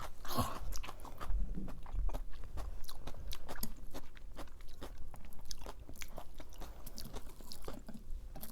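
Close, steady chewing and crunching of kimchi pancake, with rhythmic bites and wet mastication sounds repeating throughout, no talking over them.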